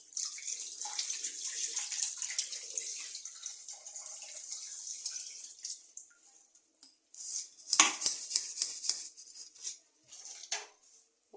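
Tap water runs steadily while a glass bottle with oily residue is washed out, a bright hiss for several seconds, then a pause, followed by sloshing splashes and rinsing bursts close by.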